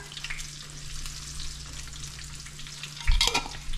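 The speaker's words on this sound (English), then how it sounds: "We just want to cook out the raw flour taste, and it starts getting a little bit dark and nutty" Flour and fat fry in a pan while a white gravy base is made, giving a steady soft sizzle with light stirring scrapes and a louder clatter near the end.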